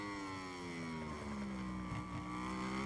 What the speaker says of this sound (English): So I'm cutting across the engine noise as we now go on to the brakes.